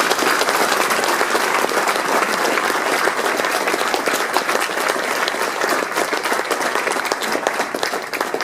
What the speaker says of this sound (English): could I ask you to give a round of applause